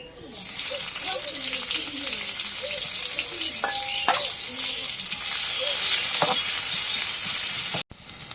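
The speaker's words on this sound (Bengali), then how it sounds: "রসুন পিঁয়াজ তেলের মধ্যে দিই" Garlic and onion frying in hot oil in a wok give off a loud, steady sizzling hiss for the whole stretch, with a few faint voice-like tones beneath and a brief dropout near the end.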